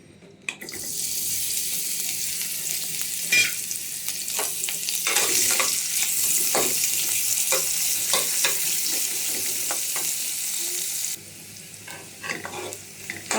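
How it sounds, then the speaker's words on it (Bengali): Onion, garlic, green chili and paste fry in a pan for a noodle dish, giving a loud, continuous hissing sizzle with stirring scrapes, which drops to a softer sizzle near the end. "কাঁচামরিচ আর পেস্টটা ভাজছি।"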